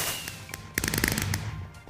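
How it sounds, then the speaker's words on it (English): Fireworks going off in the video game Minecraft, a quick cluster of sharp crackling pops and bursts in rapid succession, fairly close, over a low background hum with no talk. "Little fireworks."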